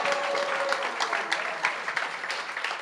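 Audience applause at a Kartik parikrama gathering in Jaipur: steady, dense clapping from a crowd, fairly close and filling the whole stretch, with scattered sharper claps standing out.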